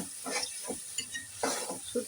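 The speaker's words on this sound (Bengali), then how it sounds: "টমেটো দিয়ে ভালো করে কষিয়ে নেব।" Dried shrimp and tomato being stir-fried in a pan, with a short run of scraping stirs and soft sizzling bursts, close and fairly quiet.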